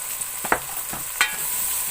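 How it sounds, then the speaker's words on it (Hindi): Masala spices, including turmeric and salt, fry with a steady sizzle while a spoon scrapes and stirs them in a pan, giving a few sharp clacks against the metal, close and fairly loud, with no talking. "अब इस मसाले को थोड़ी देर भून लेंगे"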